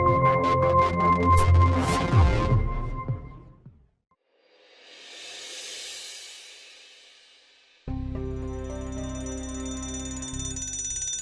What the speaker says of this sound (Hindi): अनुज प्लीज अपना अलार्म बंद करो।